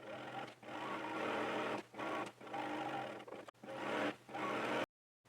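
A sewing machine runs a stay stitch at about 2.5 stitch length along the neck and shoulder of a blue dress: steady whirring bursts with brief pauses between runs, close and even, ending in silence.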